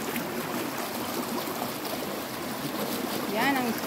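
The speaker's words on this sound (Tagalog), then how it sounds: "Yan ang stream." A stream rushes steadily along a hiking trail near Tai Tam in Hong Kong, a constant close watery wash with a brief birdlike chirp near the end.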